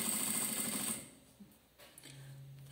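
A sewing machine runs fast and steady, stitching along the edge of a beach towel bag for about a second, then stops, leaving faint handling noises and a brief low hum.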